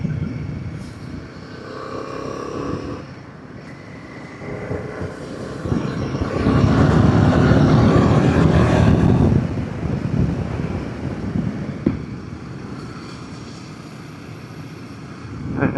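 A Royal Enfield Himalayan 450 motorcycle rolling from pavement onto a gravel road, engine rumble and tyre crunch swelling in the middle under heavy wind buffeting, with no talk.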